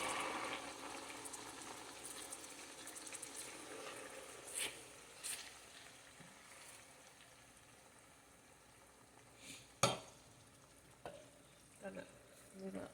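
Tomatoes cooking in a pan at home, a faint steady sizzle with soft stirring clatters and a few sharper clinks near the end.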